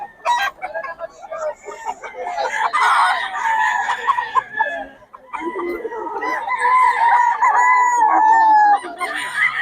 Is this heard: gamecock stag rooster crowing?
yes